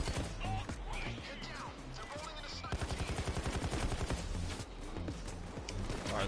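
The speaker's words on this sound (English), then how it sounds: "Hold on, there's a sniper outside." Rapid bursts of video game gunfire, sniper shots from outside, crack loudly and repeatedly through the clip, with a dense run of closely spaced shots in the middle and a voice talking faintly over part of it.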